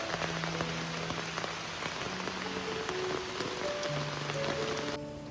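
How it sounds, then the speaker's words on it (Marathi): Heavy morning rain pours over rice paddies near Shivthar Ghal in Maharashtra, a dense, continuous hiss of drops drumming on surfaces, loud and close, with some faint tonal sounds in the background and no talking. "सकाळी सकाळी पावसाने जोरदार हजेरी लावलेली आहे"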